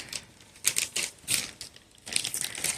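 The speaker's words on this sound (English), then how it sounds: "I'm going to move the crinkling though." Crinkly plastic packaging being shifted around produces a series of short, sharp rustling bursts, about six or seven in irregular rhythm, fairly close and quiet, with no speech.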